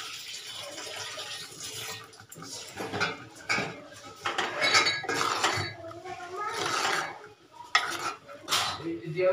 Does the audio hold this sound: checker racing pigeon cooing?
no